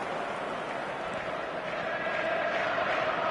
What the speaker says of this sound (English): Certainly gave this crowd something to really cheer about